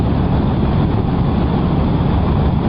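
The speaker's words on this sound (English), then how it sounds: "that engine rumble is quite" A Hero Hunk 440 motorcycle engine rumbles while riding, a loud, continuous low drone that stays even throughout and mixes with wind.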